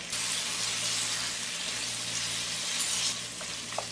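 Mutton liver frying with ginger and salt in a pan, a continuous close hiss of sizzling oil holding steady throughout, with a couple of faint clicks near the end.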